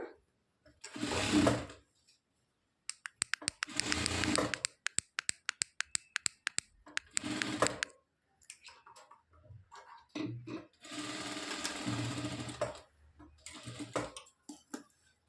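A sewing machine stitches a blouse in short separate bursts of a few seconds each, with clicks and small handling sounds in the pauses between runs. It is close and moderately loud, and no one talks.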